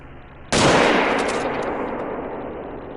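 A single loud, close hunting-rifle shot in theHunter: Call of the Wild, a sharp crack that bursts out of quiet and rolls into a long, slowly fading echo across open country.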